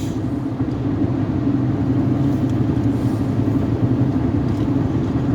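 The owner's truck engine rumbles steadily and close by. It is a loud, low, continuous drone with no voices.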